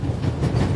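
An old-fashioned steam train with a coal car rolls steadily in The Raven Remastered video game, a close, continuous low rumble with a rhythmic clickety-clack of wheels and no talk.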